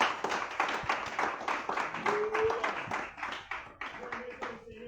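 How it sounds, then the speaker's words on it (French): Church congregation clapping in acclaim during a worship service, a steady rhythmic clap of many hands over several seconds, with a voice and crowd sounds mixed underneath. "On acclame puissamment Jésus."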